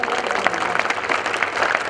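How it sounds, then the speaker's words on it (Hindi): Enthusiastic crowd applause welcoming a guru at a community gathering in Mumbai, a dense loud wash of many hands clapping continuously, with voices mixed faintly underneath. "जोरदार तालियों से स्वागत"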